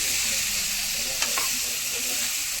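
Cabbage and dal bhaji are stir-fried in a pan, giving a steady loud sizzle with a brief scrape of the spatula partway through.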